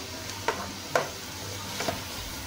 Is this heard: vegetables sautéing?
yes